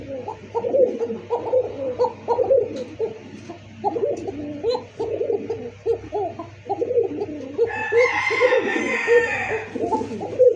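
Domestic pigeons at a pigeon farm coo and call in dense, overlapping bursts close by, with a brighter fluttering or chirping flurry near the end and a low steady hum underneath.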